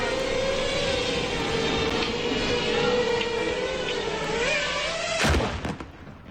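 A Russian drone attacking a Ukrainian market vendor: a steady, loud high-pitched buzzing whine that drifts slightly in pitch, ending in a sudden burst or impact near the end, with no talk.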